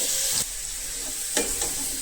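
Vegetables tumble into a pan of sizzling chicken curry, the frying hiss steady throughout with two sharp bursts of clatter and stirring as they land.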